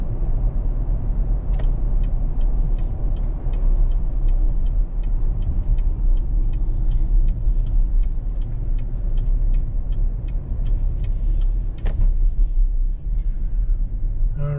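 Steady low road rumble from inside a 2023 Chevrolet Traverse High Country SUV driving on a busy road, a constant loud drone with faint ticking and a few knocks, no talking.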